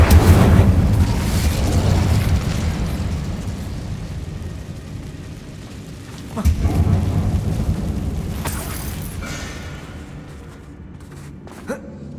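A Bombarda spell blast in the video game Hogwarts Legacy, set in a tomb-like mine, opens with a loud rumbling boom that decays, then a second heavy boom follows midway and also rolls away, with no talk.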